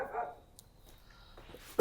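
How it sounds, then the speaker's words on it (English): A dog barks once or twice near the start, a short, fairly faint burst that fades into quiet room tone, with a small knock right at the end. "Are we triggering any dog barking?"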